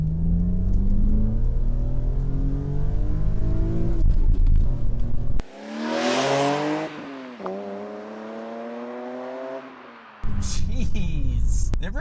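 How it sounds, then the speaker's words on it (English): A BMW M Coupe's engine pulls hard while driving, its rising and falling rev tones loud and continuous, dipping briefly as gears change before surging again. "You can feel that engine up front pumping power to the rear tires."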